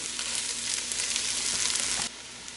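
Sauerbraten meat browning with vegetables in a pan gives a loud, steady sizzle and crackle that runs continuously, then drops abruptly to a quieter hiss near the end; no one speaks.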